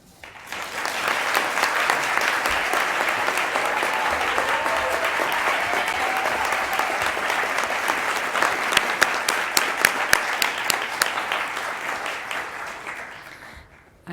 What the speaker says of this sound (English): the extra applause and youthful exuberance is well deserved here